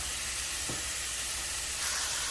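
Carne asada meat sizzles steadily in a hot pan for nachos, a continuous close crackling hiss with no talk over it.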